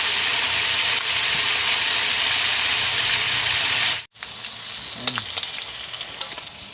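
Chicken sizzles and crackles in hot oil, a loud continuous frying hiss that drops out for an instant, then resumes with a few light clinks.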